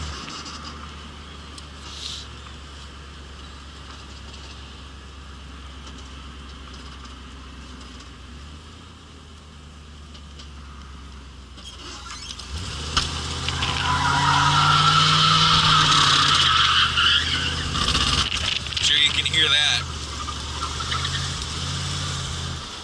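A car engine drones steadily, then revs up loudly with a whining, grinding gearbox noise while accelerating before easing off; no one speaks.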